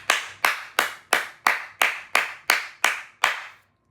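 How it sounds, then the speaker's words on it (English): Ten sharp, evenly spaced hand claps ring out at a steady beat of about three per second, each followed by a short echoing tail, before stopping into silence. "Let's clap it up for them."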